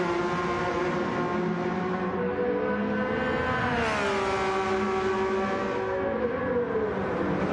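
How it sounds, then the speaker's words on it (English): A Porsche 992 race car engine at the Nürburgring 24-hour race howls at high revs, rising in pitch through a gear and then holding a steady drone, loud and close with no talk. "Let's just enjoy the sounds of the Porsche 992."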